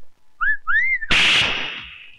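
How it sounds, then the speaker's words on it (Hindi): A person whistles a short rising, bending tune of two phrases, then a sudden sharp burst of noise like a loud blow or crash cuts in and fades over about a second, all in a Hindi comedy film scene. "आप मुझे भी सीटी बजाना सिखाएंगे"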